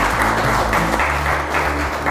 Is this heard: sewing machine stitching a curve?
no